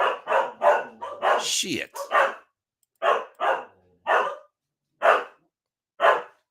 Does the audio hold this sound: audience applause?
no